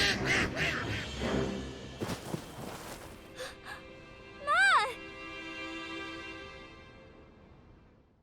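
Duck in the farming game My Time at Sandrock letting out a single loud quack mid-scene, preceded by game dialogue and voices, with a quiet ambient tail fading afterward.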